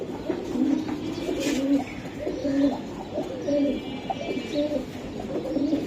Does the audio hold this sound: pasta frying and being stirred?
no